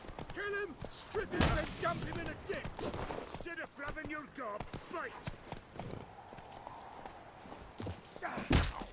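Rhythmic clip-clop of horse hooves in The Witcher 3, steady footfalls under someone talking, with scattered game sound effects.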